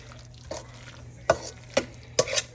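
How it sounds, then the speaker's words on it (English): A spoon stirs dry mix into a wet batter for a green chile corn casserole, giving a few soft, irregular scrapes and knocks against the bowl, close by with no talking. "stirring the dry mix into the wet mixture until it's just combined"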